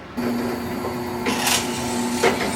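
A Harbor Freight 8-inch bench top drill press drills 3/8-inch plywood, its motor starting abruptly into a steady tonal hum, with brief bursts of cutting noise partway through.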